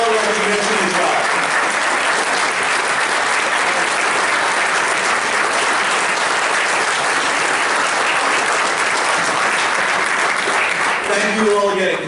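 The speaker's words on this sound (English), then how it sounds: "let's give a round of applause to all of them who have taken the time" Sustained applause from an audience of parents and faculty at a town board meeting, steady and dense clapping filling the room for the whole stretch, with a few voices rising near the end.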